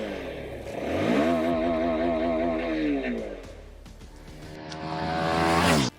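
A Keeway K300R sport motorcycle engine revs repeatedly toward 12,000 RPM, pitch climbing and falling in loud sweeps, close by with no talking.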